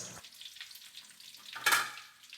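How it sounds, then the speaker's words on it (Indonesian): Sliced spring onions sizzling in a pan of pesmol spice stir-fry for mackerel, a faint steady frying hiss with a brief louder crackle near the end and no talk. "terakhir kita masukkan daun bawang yang sudah diiris."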